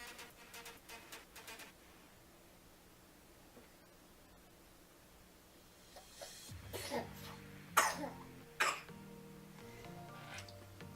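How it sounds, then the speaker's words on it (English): A sick young boy coughs in a quiet indoor room, a few faint coughs and throat-clearing bursts early on, then louder, closer clusters of harsh coughs in the second half over a low background hiss. "So if you hear some coughing in the background, that's my son."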